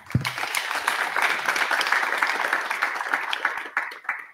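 Applause from the audience at a French business breakfast talk, dense steady clapping sustained for several seconds after one sharp clap at the start, with no voices over it.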